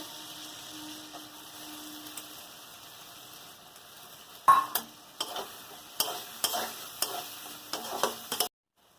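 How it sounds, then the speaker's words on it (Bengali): Chopped onions drop into a pan of frying garlic and bay leaf, setting off a sudden loud sizzle, followed by repeated stirring scrapes and clanks before everything stops abruptly. "এবার পেঁয়াজ দিয়ে দেবো কেটে রাখা পরিমাণ মতো।"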